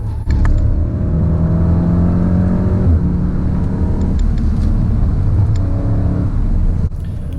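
A Golf 7 R with a six-speed DSG gearbox accelerates hard on the Nürburgring, its engine rumbling loudly and climbing in pitch before a quick shift near three seconds and another pull, heard from inside the car.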